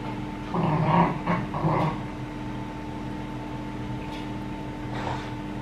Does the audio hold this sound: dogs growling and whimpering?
yes